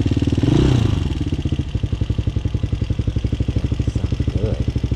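A Hawk 250cc motorcycle engine idles close by with a fast, even putter, choke off, briefly revving at the start before settling into a steady rhythm.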